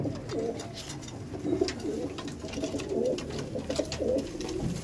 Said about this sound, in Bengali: ওই দেখো লেস সাদা আবলুক পায়রা।